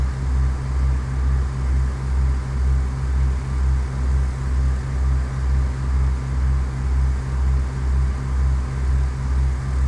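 In Microsoft Flight Simulator X, a light airplane's engine runs at idle during a landing, a steady low droning hum with a slow regular pulsing beat under faint broadband air noise, continuous and unchanging.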